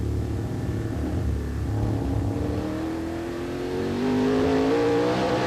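TVR Tuscan V8 race cars at the Donington racing circuit, a steady loud engine roar that climbs in pitch as they accelerate, with a sustained rumble and no voices over it.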